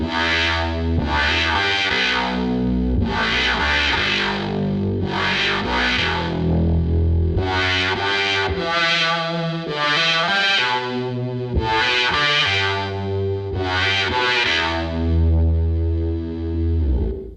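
A Source Audio C4 Synth preset plays a sequence of sustained, thick, buzzy chords with a deep octave-down saw layer and an added fifth, bright and harmonically rich.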